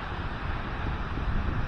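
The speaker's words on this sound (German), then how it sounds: "Leichten Wind, aber nur hier oben." Light wind blowing steadily across an open outdoor spot high above the coast at Maspalomas, Gran Canaria, a soft continuous rush with no other sounds.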